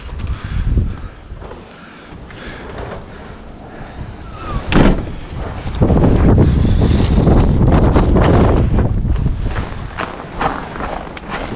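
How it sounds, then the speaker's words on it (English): Strong outdoor wind batters the microphone in loud rumbling gusts that build and stay heavy through the second half, beside a wooden smoker. "windy out today."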